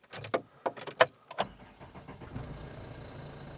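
An old diesel car engine cranks in a few sharp stuttering bursts, catches, then settles into a rough, steady idle nearby, with no talking.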